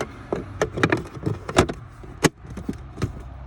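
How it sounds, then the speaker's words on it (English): Several sharp plastic snaps and clicks as the cabin air filter access panel of a Toyota 4Runner is pressed into place, irregular taps with one louder final snap. "put the access door back in"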